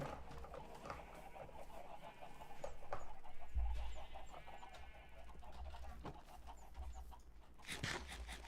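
Minecraft chickens cluck in scattered, soft calls over a quiet game background with a few other faint clicks and noises, low in level and without speech.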